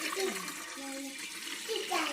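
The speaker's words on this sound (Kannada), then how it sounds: "ಒಂದು ಪಾತ್ರೆಗೆ ನೀರು ಹಾಕಬೇಕು" Water pours into a cooking pot at home while rose water is being made, a steady splashing rush lasting about two seconds with a voice faintly audible beneath it.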